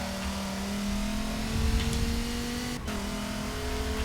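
Race car engine in a racing video game at Watkins Glen International, a steady high drone holding pitch as the car pulls out of a corner, with a brief dip near the end before the note resumes.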